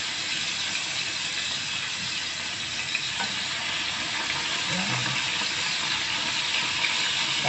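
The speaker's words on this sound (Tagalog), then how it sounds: "ipiprito natin siya" Marinated food fries in a pan with a steady broadband sizzle, continuous and fairly loud throughout, with faint stirring and scraping sounds and a brief low voice near the end.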